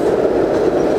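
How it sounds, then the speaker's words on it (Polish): A Trans-Siberian passenger train halts for a locomotive change and gives off a loud, steady rumbling rail drone throughout the moment, with no voices. "Coś nam zabrali, chyba lokomotywę znowu."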